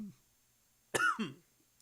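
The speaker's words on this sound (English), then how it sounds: "I start coughing uncontrollably" A single short, sharp cough bursts out from a person nearby, followed by a brief catch of breath, with near silence before and after.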